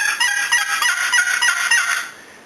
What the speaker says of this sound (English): I tune these box calls so that they sound best when the lid is canted toward the box